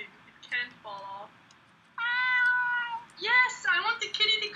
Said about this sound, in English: Yes, I want the kitty to come out. Come on out, buddy. Come on, kitty.